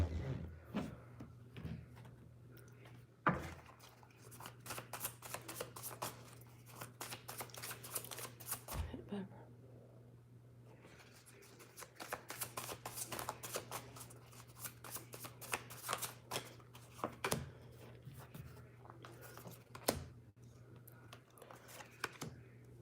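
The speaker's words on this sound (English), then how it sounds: "I gotta keep shuffling." Continuous close-up tarot card shuffling, with rapid riffles and soft slapping of cards, a low steady hum underneath and short pauses between rounds.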